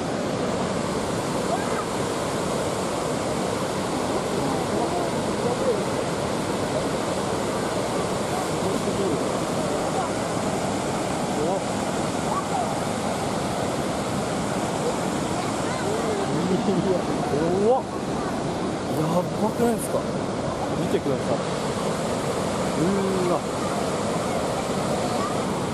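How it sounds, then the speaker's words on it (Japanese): Water spray crashes down from a dam spillway in Aikawa, a loud, continuous broadband rush that runs steadily from start to finish with no talking. "一個一個の水のしぶきが、全部違うんで"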